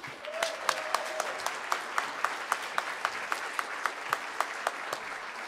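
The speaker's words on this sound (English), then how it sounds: "One more round of applause, please, for Will, Steve, Hannah, Nick, Anthony, and" An audience at a high school winter jazz concert claps in a steady, rhythmic beat, the claps landing evenly over a bed of scattered applause.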